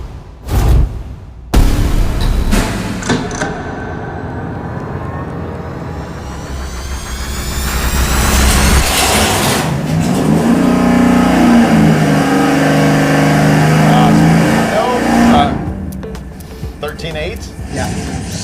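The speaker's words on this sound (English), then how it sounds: "we're gonna fire it up now with the Victor Jr. single plane" A V8 engine fitted with a Victor Jr. single plane intake fires up and revs hard, climbing through loud sustained sweeps before settling, with voices talking briefly at the start and end.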